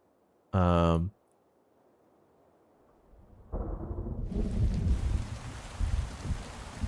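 In a video game, a sharp burst of harmonic tone, then a pause before steady, hissing rain builds and thickens into a dense, continuous downpour.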